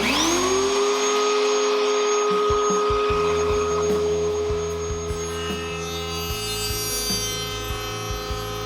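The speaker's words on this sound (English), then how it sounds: "we're ready to run our piece of flat stock over that router bit." Router motor spinning up to a loud steady whine, then cutting an edge banding groove in flat stock, with the tone shifting and a rough grinding texture as the wood feeds past the bit.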